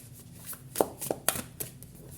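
Tarot cards being shuffled by hand during a card reading, a series of soft quick riffles and slaps, close and fairly quiet with faint room hum.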